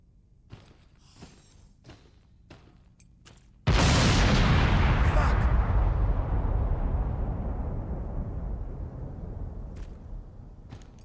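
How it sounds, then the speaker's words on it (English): A heavy, distant-feeling boom of bombing in a horror game set beneath the earth erupts suddenly after quiet footsteps and rumbles on as a long, slowly fading roar, with sparse crackles and thuds around it. "Someone's definitely bombing the place."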